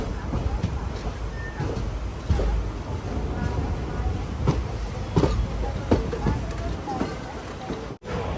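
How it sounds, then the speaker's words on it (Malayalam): Rajya Rani Express rolling into Thiruvananthapuram Central, a steady broad rumble of carriages with rhythmic wheel clatter and scattered clanks throughout, close and loud, with a brief dropout near the end. "തിരുവനന്തപുരം സെൻട്രൽ റെയിൽവേ സ്റ്റേഷനിലേക്ക് ഇതാ നമ്മുടെ ട്രെയിൻ എത്തിക്കൊണ്ടിരിക്കുക"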